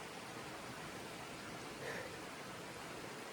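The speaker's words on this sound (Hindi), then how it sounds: "आपको आवाज़ आ रही होगी सिर्फ बहते पानी की और हवा की" A mountain stream flows steadily near the village of Chitkul in the Himalayas, a faint, even wash of rushing water with soft wind, continuous and without voices.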